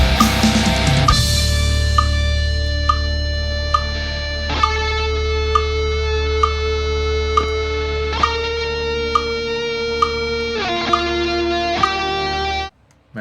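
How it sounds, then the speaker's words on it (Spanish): A recorded multitrack distorted electric guitar part plays loud and sustained, with ringing chords and repeating accented notes for about twelve seconds before cutting off abruptly. "terminé la tercera pista de guitarra y suena así"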